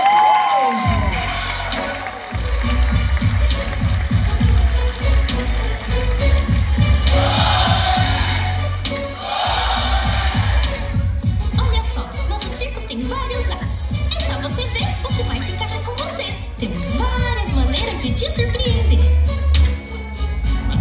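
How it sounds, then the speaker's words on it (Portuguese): A circus-style stage show audience cheering, whooping and shouting after a performer is introduced, a dense sustained crowd roar that swells and holds for about twenty seconds, with children's voices mixed in. "aplausos."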